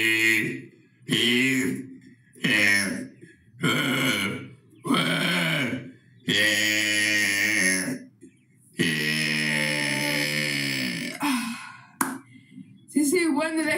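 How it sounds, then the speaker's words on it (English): A run of about eight loud, throaty burps from one person, close up, each separated by a short pause, with the later ones longer and more drawn out. "today we're going to do the 10th burp video"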